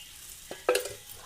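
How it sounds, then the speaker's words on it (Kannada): Oil hits a hot dosa pan for North Karnataka onion chutney, giving a short, faint sizzle that briefly swells right after a soft clink, then fades. Nobody speaks. "ಇವಾಗ ಎಣ್ಣೆ ಹಾಕೋತೀನಿ ನೋಡಿರಿ"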